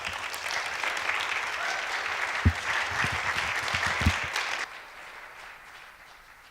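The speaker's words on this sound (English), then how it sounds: "So another round of applause for Aleisha real quick." An indoor audience at a teen event claps loudly and steadily for several seconds, with a few sharp louder claps, before the applause drops away into a quieter room.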